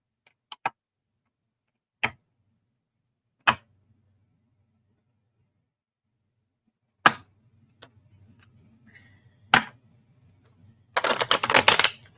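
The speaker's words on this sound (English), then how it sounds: "Here, how about I pull a card for you, Donna?" Cards being shuffled and drawn from a deck: a few sharp, isolated snaps and taps spaced seconds apart, then a short dense riffling burst at the end, close and clear with no talking.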